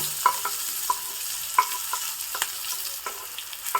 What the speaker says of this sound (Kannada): ಈಗ ಸಣ್ಣದಾಗಿ ಹೆಚ್ಚಿಕೊಂಡಿರೋ ಈರುಳ್ಳಿ ಹಾಕ್ತಾ ಇದ್ದೀನಿ